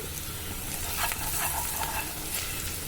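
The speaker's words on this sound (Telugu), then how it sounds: "ఉల్లిపాయలు వేగిన తర్వాత ధనియాల పొడిని అయితే యాడ్ చేసుకోండి" Onions sizzle steadily in a hot pan with coriander powder added while cooking okra egg curry, a close, continuous frying hiss with faint stirring scrapes and no talk.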